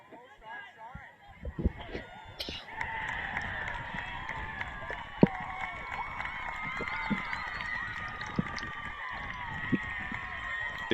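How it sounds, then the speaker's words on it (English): A distant crowd cheers and shouts for an Abington goal in a JV boys' soccer game on a field behind, a sustained roar rising after a couple of seconds and carrying steadily under nearby outdoor noise. "Big cheer was a Abington goal, the JV game behind us"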